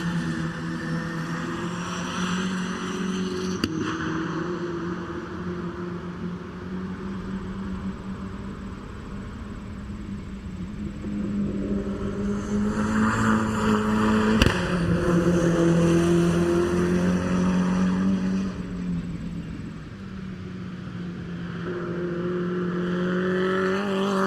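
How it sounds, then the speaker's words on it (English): Toyota Stout race truck engine lapping a circuit at a time attack and drift event, a continuous engine drone rising and falling through gear changes, growing louder as it passes closer and fading again. "for this lap we just listen to this car"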